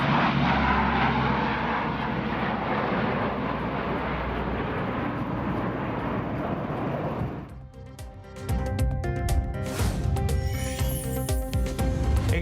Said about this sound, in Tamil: விமானம் மூலம் ரசாயன பொடியை தூவி காட்டுத்தீயை கட்டுப்படுத்தும் பணி தீவிரம்.